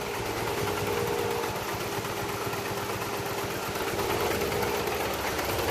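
Mazdaspeed 3 engine idling at very low RPM, a steady near rumble with a fast, even mechanical clatter running throughout, no talk.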